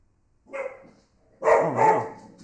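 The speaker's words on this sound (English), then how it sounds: "The dogs are barking." Dogs at a neighboring home bark in two short bursts, the first fairly faint and the second louder with overlapping barks, separated by near silence.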